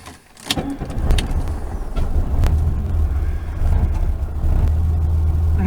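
A 1973 VW Super Beetle pulls away and drives along the road, its air-cooled engine rumbling steadily low and close from inside the car, with a few clicks and knocks at the start and no talking.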